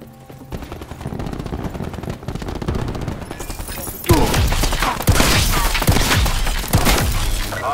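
The Tempest weapon firing in Call of Duty: Black Ops 4, a burst of loud, heavy, sharp shots with crashing impacts that starts midway after a quieter stretch of game sound and continues to the end.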